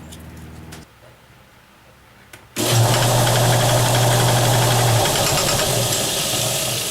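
A wood lathe turns an off-balance mango wood bowl blank on a spur drive. After a quiet start with faint clicks, the motor kicks in abruptly and a loud, steady whirring hum with a low droning tone runs to the end.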